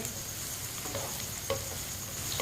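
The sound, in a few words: ridge gourd frying while stirred with a spoon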